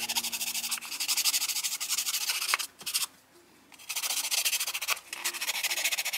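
Sandpaper roughing up a shiny gold resin jar pump part, close rhythmic rubbing strokes in repeated bursts with a short pause midway.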